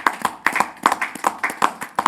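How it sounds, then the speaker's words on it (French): Applause from a small audience comes as clear, sharp handclaps in a quick irregular patter, fairly close and with no talking over it. "Et on peut l'applaudir pour ce combat-là."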